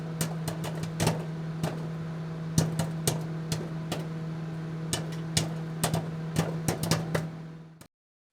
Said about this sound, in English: It's popcorn popping.